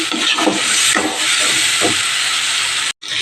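Ground cumin, coriander and Kashmiri red chilli paste frying in a pan for a soybean and egg curry, a loud continuous sizzle with soft scraping stirs, cutting off briefly near the end.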